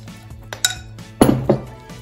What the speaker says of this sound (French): Je continue de mélanger.